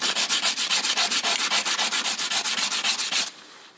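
Rapid, steady back-and-forth sanding strokes over the edges of mosaic pieces, about twenty rhythmic rasping passes close up, then stopping abruptly.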